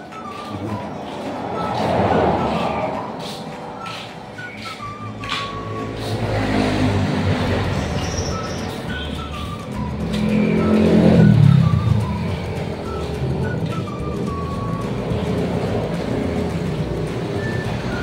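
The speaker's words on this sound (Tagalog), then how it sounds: "maingay na ako at marami na sasakyan dito sa highway." Vehicles pass on a busy highway, with swelling and fading engine roars and tire noise rising and receding several times in a continuous stream, fairly close by.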